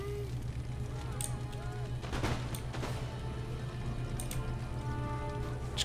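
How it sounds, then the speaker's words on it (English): Ragged musket volley fired by rank in the Empire: Total War battle, two brief crackling bursts over a constant low battlefield drone and ambient game sound, fairly distant and soft. "Fire by rank into this handful of men."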